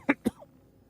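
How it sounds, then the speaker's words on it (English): Two quick, dry coughs from a man break a short silence, sounding close and sharp. A faint trailing sound follows before the room goes quiet. "Didn't mean to cough like that."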